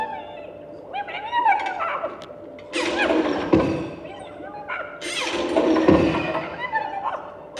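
Laboratory machine starting up in a Muppet Labs show at Hollywood Studios, a busy mechanical clatter of whirring, clanking and thumping with squeaky electronic tones, building in two loud bursts.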